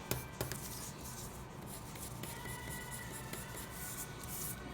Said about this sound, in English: So here's the light blue, coloring towards one direction.